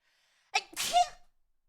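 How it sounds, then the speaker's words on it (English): A single loud human sneeze, a quick sharp intake and then an explosive burst lasting under a second, close to the microphone in an otherwise quiet room. "and I gotta sneeze."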